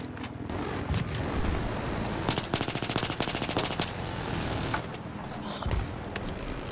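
Battlefield 3 gunfire fills the scene, with a rapid machine-gun burst of dense, evenly spaced shots in the middle, scattered single shots and booms around it, and players talking over the action.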